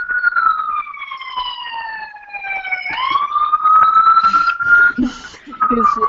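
A wailing siren sweeps down and up in pitch, loud and close, as a voice speaks over it.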